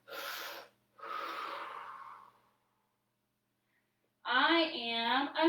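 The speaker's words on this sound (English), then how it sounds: "Big breath in and out." A deep breath in and out during a children's yoga session, with a long breathy inhale and exhale followed by a pause, then a voice speaking.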